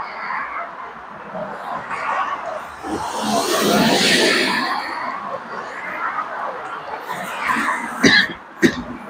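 A few harsh coughs and throat-clearing sounds break through background chatter and street noise in Nazareth, Israel, fairly close.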